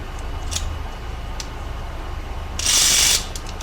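Faint ticks and clicks from a Bell and Howell 414 windup motor whose clutch won't engage properly, then one half-second burst of mechanical whirring near the end, close up and with no talking.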